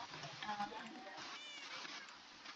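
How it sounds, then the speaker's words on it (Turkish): Cat meows sound repeatedly amid a busy, noisy room, fairly close, with background chatter running underneath. "ev kedi sesleriyle doldu"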